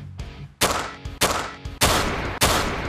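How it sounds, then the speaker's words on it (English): Gunshot sound effect in a comedic spoof product ad: a series of four or five loud, sharp blasts roughly half a second apart, each with a short ringing tail, standing alone without talk. "That sounded like a gosh darn gunshot."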